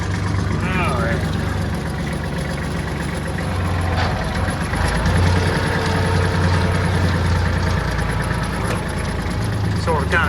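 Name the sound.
tractor engine idling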